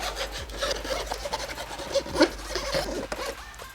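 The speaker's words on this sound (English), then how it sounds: "I'm going to go over the whole cut area just to clean it up and have it burr free" Someone deburrs the cut edge of a Honda Grom undertail with a hand file or abrasive, making close, quiet, irregular rasping and rubbing strokes with short pauses between passes.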